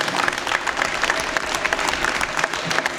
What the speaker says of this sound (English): if we can give them a huge round of applause